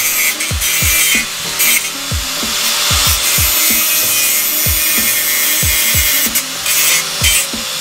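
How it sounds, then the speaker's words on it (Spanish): A metal file rasping the head of a BMX wheel spoke, a loud close series of rhythmic back-and-forth scraping strokes, each stroke a gritty grinding rub repeated steadily with no talk. "He puesto un radio y son un poquito largos y voy a limar la cabeza."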